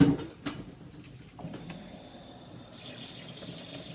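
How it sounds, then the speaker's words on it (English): Hot water running from a tap into a bowl, a soft steady splashing stream after a few clunks at the start, faint and close with no talk. "then fill it with hot water"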